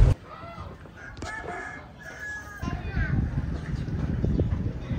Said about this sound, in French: Là, c'est la jungle des poulets